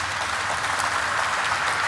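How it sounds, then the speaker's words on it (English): Steady broadband applause for employees at the SBFC Finance Limited stock listing ceremony, a continuous dense wash of clapping from a gathered crowd with no talk on top. "I think a big round of applause for all the employees."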